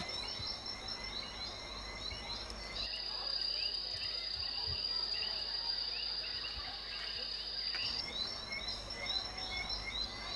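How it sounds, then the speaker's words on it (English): Crickets chirping at night in a dense, continuous, high-pitched trill that holds steady throughout, with a sustained tone in the middle stretch and a constant ambient hiss beneath. "The crickets chirped."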